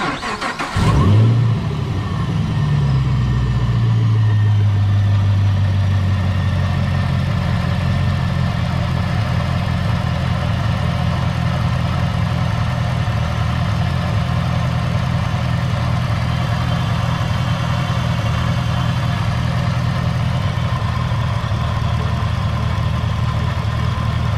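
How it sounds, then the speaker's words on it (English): A supercharged 2015 Camaro ZL1 V8, freshly filled with Amsoil oil, cranks and fires with a loud flare, then settles into a steady, rumbling idle that continues close by for over twenty seconds. "start it up. You guys get to listen to it. First start up with Amsoil"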